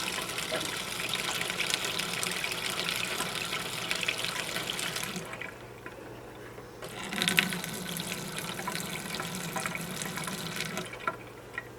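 Water flows steadily from a reverse osmosis drinking-water faucet into a sink, a continuous splashing rush that briefly cuts off about midway, then resumes strongly before easing.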